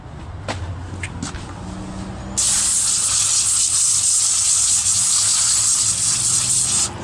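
A strong, steady water spray hisses as it rinses a freshly resurfaced cylinder head, starting abruptly after a couple of seconds of quieter workshop sounds and continuing loud and close.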